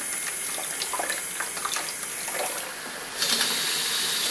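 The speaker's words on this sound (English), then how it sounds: "Just gonna bring the water level up to the top." Water pours steadily into a bucket of mixed slurry from incinerated IC chips during gold recovery, a continuous splashing rush that swells louder near the end, with no voices.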